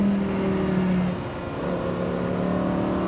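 A Lamborghini Huracan STO engine pulls steadily on a racetrack, its sustained tone dipping briefly, then building again as the car accelerates. No voices are heard.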